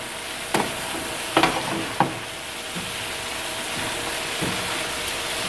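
Beef fajita meat seasoned with onion powder, garlic powder and paprika sizzles in a skillet, a steady hiss broken by a few sharp scrapes as it is stirred.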